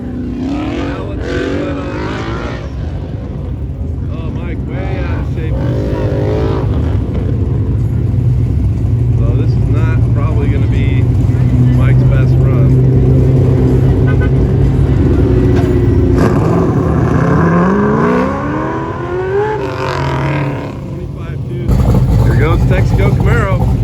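A 1968 Camaro race car accelerates around a bumpy track, its engine droning and rising in pitch through several revving climbs, loud and continuous with talk over it.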